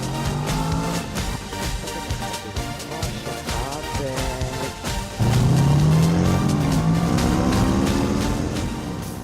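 A Kawasaki H2 SX motorcycle exhaust roars loudly and continuously, its pitch rising and falling through revs and surging harder about halfway through.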